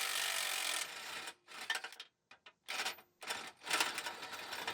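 A nut spun off a control arm bolt on a Pontiac G8 GT subframe, whose back-side nut is welded to the frame, gives bursts of close, harsh whirring and rasping separated by short silent gaps.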